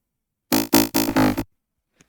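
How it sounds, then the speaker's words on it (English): A synth bass built from a kick drum loaded into a sampler with a touch of white noise and effects switched off, playing four punchy low, buzzy hits in quick succession, then silence. "Which is just a kick that I put into the sampler, added a tiny bit of white noise"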